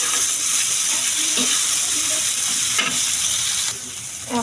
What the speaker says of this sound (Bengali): এখন চিকেনের সঙ্গে গাজরটা দিয়ে দিব, আর এই বিনসগুলো দিয়ে দিব, এগুলো ভেজে নেব